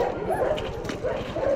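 Dogs riding on a truck roof bark and yip in short excited bursts, close and fairly loud, with whimpering mixed between the barks.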